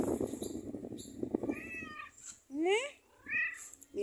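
A cat meows in a home setting, two or three rising, drawn-out meows after a stretch of Spanish-speaking talk.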